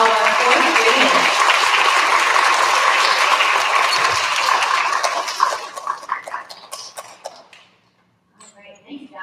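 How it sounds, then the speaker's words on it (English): Loud applause from an audience at a school recognition ceremony for fourth graders, dense clapping for about five seconds before thinning into scattered claps and a brief pause. "Nice big round of applause for all of our fourth graders."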